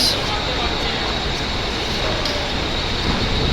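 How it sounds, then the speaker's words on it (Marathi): A Mumbai local train rumbles in steadily, a dense continuous roar of wheels and machinery filling the space, with faint clanks now and then. "आपली लोकल ट्रेन पण आलेली आहे वेळेतच"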